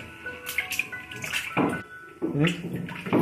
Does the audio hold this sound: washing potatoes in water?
yes